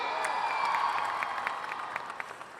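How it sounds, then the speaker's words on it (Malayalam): An audience at a film success celebration applauds in a dense, steady wash of clapping that fades slightly toward the end, with a few louder individual claps rising above the crowd. "കയ്യടി."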